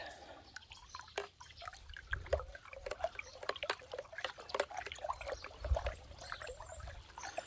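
Soft liquid sloshing and dripping as an orchard spray mixture for peach and plum trees is stirred in a container of water, quiet and close with irregular splashes.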